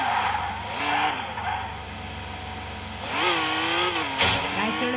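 A GTR car in the Car Simulator 2 video game races fast, its engine revving and tires squealing in sustained skids that rise and fall in pitch, loud and continuous throughout.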